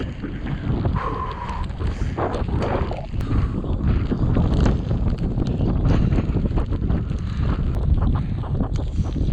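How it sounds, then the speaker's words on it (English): Loud, roaring wind buffets the microphone continuously outdoors while walking straight into it, surging in strong gusts with a rough, blustery rumble throughout. "So we're headed straight against the wind right now."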